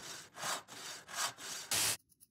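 A saw cuts plasterboard (drywall) in a cartoon. Five or six quick rhythmic back-and-forth strokes rasp close and clear, and a sharper final stroke cuts off abruptly.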